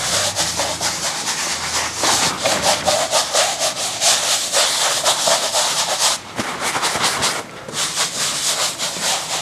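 A shop towel rubbed briskly over wet glaze on a sandstone-effect painted plaster wall, giving a steady, loud, close scrubbing and swishing texture with short pauses, no talking.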